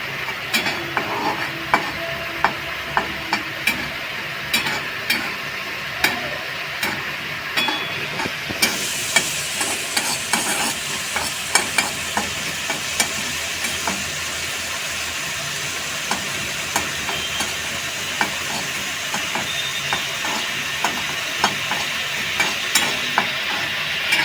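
Sesame pointed gourd (til potol) fries in oil in a pan with a steady, close sizzle, punctuated by frequent scraping clicks of a stirring spoon throughout, with no one speaking.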